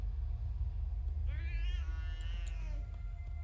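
A cat in the video game World of Warcraft lets out a single drawn-out meow lasting over a second, heard over a constant low rumbling ambience.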